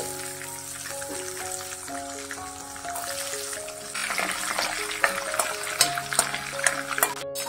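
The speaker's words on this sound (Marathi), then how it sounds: "ते लालसर जरा लसूण करून घ्यायची आपल्याला।" Chopped garlic, 15-20 cloves with cumin, fries in oil, giving a crackling sizzle with scattered pops. It grows busier toward the end, and soft background music plays underneath.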